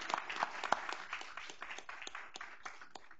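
A short burst of light applause at a school board meeting, scattered claps from a small crowd, fairly faint and thinning out toward the end.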